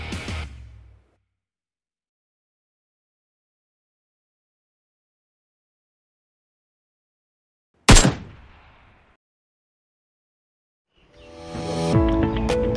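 A Miss & Chief toy AK-47 gives one sharp electronic firing burst after a long silence, followed near the end by a louder, buzzing toy-gun sound effect.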